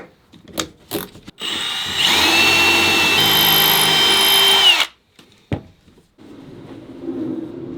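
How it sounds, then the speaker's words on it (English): A power drill whirs steadily for about three seconds, drilling a hole in a wooden dowel from a croquet mallet stick, close and loud, framed by a few handling knocks and clicks before and after. "Now I'll drill a hole in the dowel."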